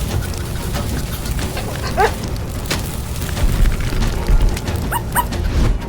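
A dog yips and whimpers in short, high bursts over a busy, noisy background.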